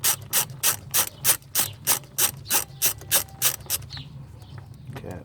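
A hand ratchet undoes a 10mm bolt on a Ford Falcon XR6 during power steering pump replacement, about a dozen quick, evenly spaced clicking strokes up close before it stops.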